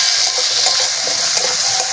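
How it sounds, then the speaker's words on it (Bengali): Green chillies and tomato fry in a hot pan with a steady, close hiss and light crackle, broken by faint stirring scrapes. "লঙ্কা টমেটোটা ভালো করে একটু ভেজে নেব।"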